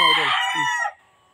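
A White General gamefowl rooster lets out a single loud, close crow that breaks into a short cluck and then cuts to silence.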